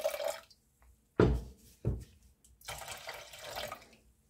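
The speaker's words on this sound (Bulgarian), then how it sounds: "Сега ще му налея вода." Water poured from a tap into the pot of a rice cooker holding washed rice, heard as a short splashing run, a couple of sharp bursts, then a steadier filling gush, close by with no talk.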